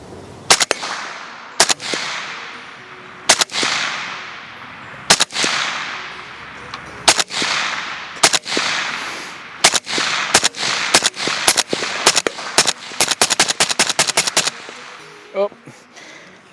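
Gunshots fired at a target in a first-person shooting run, sharp loud reports spaced a second or two apart at first, then quickening into rapid bursts toward the end, each with a short echoing tail.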